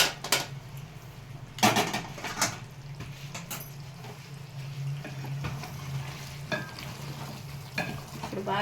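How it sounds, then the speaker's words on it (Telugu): A spoon stirs chicken leg curry with yogurt in a pan on a switched-off stove, giving scattered scraping clatters of utensil against metal over a faint, steady sizzle, close by and fairly quiet. "ఇప్పుడు బాగా కలుపుకున్నాం."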